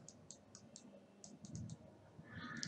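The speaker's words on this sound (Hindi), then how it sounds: "पहला तरीका है कि आप डेस्कटॉप पे कहीं भी राइट क्लिक कीजिए।" Computer mouse clicks on a desktop, several small, quiet, crisp clicks in an irregular series amid faint room noise, with no speech.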